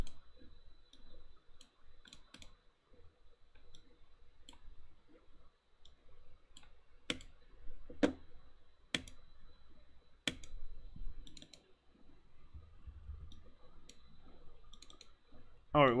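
Mouse clicks in the Unreal Engine 5 editor during inventory bug testing: a few sharp, isolated clicks spaced several seconds apart over faint background noise, close and fairly quiet.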